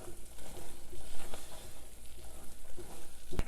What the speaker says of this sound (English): Because these almonds are boiling with this mixture here